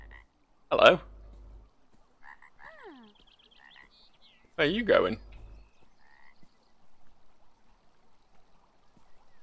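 A frog in the video game Beyond Eyes gives two loud, close croaks several seconds apart, with faint trickling water and a brief spoken voice between them.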